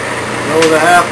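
A Clausing Atlas Logan metal lathe cutting threads with the half nut engaged gives a steady close motor hum, with a brief hiss and a thin rising whine near the end, and a voice speaks over it.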